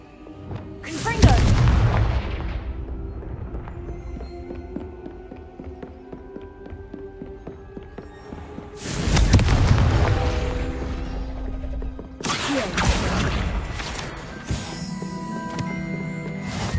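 Confringo fire spells in the Hogwarts Legacy video game blast out as three loud booming explosions with crackling decays, spread several seconds apart, sitting over game ambience.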